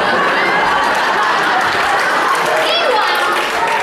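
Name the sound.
audience clapping their legs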